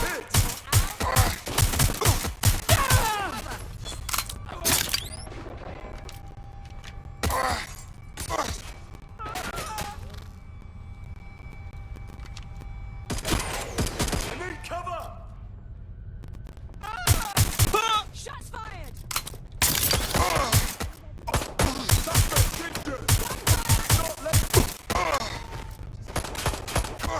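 Gunfire in Watch Dogs: Legion, repeated loud bursts and fusillades of shots in clusters separated by quieter gaps, with a voice speaking between volleys.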